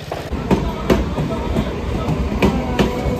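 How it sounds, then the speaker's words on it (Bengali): A train bound for Sealdah runs along the line nearby, a loud rumble with repeated clickety-clack wheel beats over the rail joints. "এটা ট্রেনটা শিয়ালদা যাচ্ছে"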